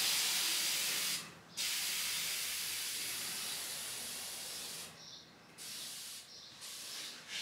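Air hissing out of a Toyota Tacoma's air suspension bags through an opened Schrader valve, a loud steady spray that cuts off briefly a few times before resuming.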